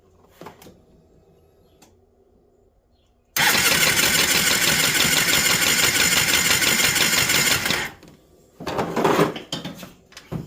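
A 2008 Polaris RZR 800 with a no-start fault cranks hard under throttle, a loud, steady churning burst lasting about four seconds after a quiet lull, followed by a few softer mechanical clunks.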